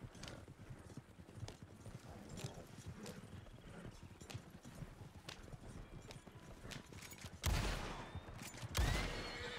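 Steady clip-clop of horse hooves trotting throughout in Red Dead Online, with a couple of louder bursts near the end; game-like ambience underneath.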